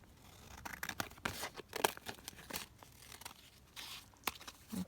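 Paper being cut down with scissors for a junk journal, heard as faint, close snips and soft crinkling rustles in a quiet room, with no talking.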